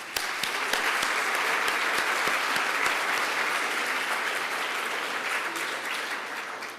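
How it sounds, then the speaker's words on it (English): A crowd applauds steadily at an awards ceremony for a winner, with many hands clapping in a sustained, even wash and a few sharper nearby claps standing out, tapering slightly toward the end. "Let's give Allie a round of applause."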